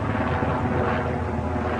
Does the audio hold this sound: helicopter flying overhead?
yes